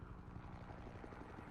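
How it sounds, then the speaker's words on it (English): Helicopter in a Batman video game, a faint, low rotor thrum and whir held steady for a brief moment with no voices over it. "Oh, I hear helicopter."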